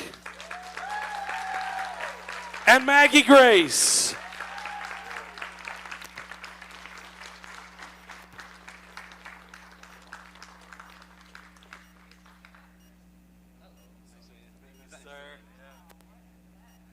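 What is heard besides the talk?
convention audience applause for panel guests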